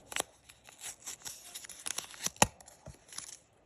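A pink paper surprise packet is torn and opened by hand, giving crisp tearing and crinkling bursts with one sharp rip near the middle, close and fairly quiet, with no talking.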